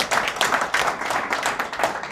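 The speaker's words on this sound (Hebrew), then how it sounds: "מביאות מחיאות כפיים" Audience clapping at a basketball-related talk event, a steady patter of many hands applauding together, moderately loud and continuous, with no voices over it.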